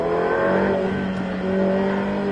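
A Ferrari F8 Tributo engine drones steadily as it accelerates on a racing circuit, a loud sustained whine and rumble holding close throughout with no voices.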